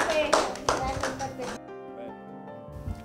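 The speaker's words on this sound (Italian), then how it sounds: "un applauso a Lucia Mazzetti" A small audience applauds artist Lucia Mazzetti at an art exhibition, with a short burst of scattered claps that quickly dies away and leaves a sustained musical tone behind.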